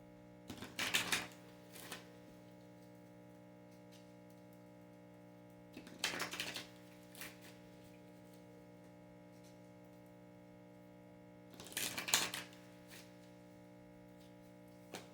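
Kali oracle cards are shuffled and drawn in three short, crisp riffling bursts spaced several seconds apart over a low, steady background hum, with no talking.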